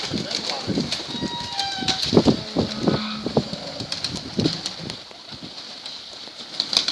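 Pigeons coo softly in a low, throaty rhythm nearby, mixed with rustling, scattered chirps and a few human voices in the background.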